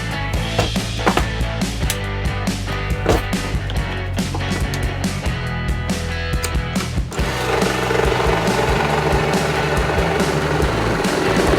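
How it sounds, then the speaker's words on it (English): A jigsaw cuts through live edge cedar, making a loud rapid buzzing chatter close by that runs continuously, changing to a harsher, denser tone partway through. "this, which I'm going to jigsaw around"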